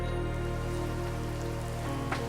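Steady rain falls on a dark, stormy night, a dense continuous patter at even loudness with a low droning hum underneath.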